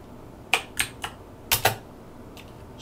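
Several crisp key clicks on a Sinclair ZX Spectrum keyboard, arriving in two short clusters of taps with a faint final pair, close and clear with no talking.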